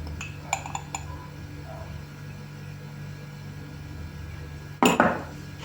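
A few light metallic clinks early on over a steady hum, then a sharper clatter of a spoon against a jar of fermenting cucumbers as mustard powder is added near the end.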